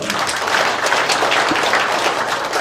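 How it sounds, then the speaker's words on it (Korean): Loud, dense applause from a large church assembly, a continuous wash of clapping with no talk over it. "박수 해드리십시오."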